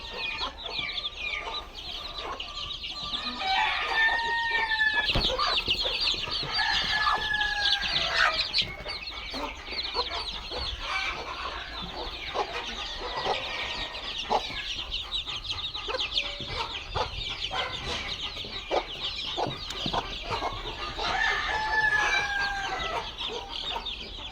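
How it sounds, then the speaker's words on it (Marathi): A free-range hen clucks among about thirty chicks on a village poultry farm, the chicks cheeping in high bursts while a rooster crows, alongside scattered pecking and rustling close by, with no talk. "कोंबडी बरोबर ही 30 पिल्लं आहे"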